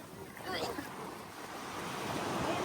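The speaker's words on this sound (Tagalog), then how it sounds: "Malakas alon." Surf rolling onto the shore at Patungan Beach in Maragondon, Cavite, a steady broadband wash with wind noise, rising slightly toward the end; people talk faintly in the background.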